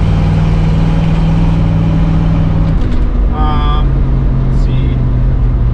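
A 1976 Dodge Ramcharger with four-wheel drive rumbles along the road, its engine a steady, loud cabin drone throughout, as someone speaks briefly over it and a few high chirps cut in.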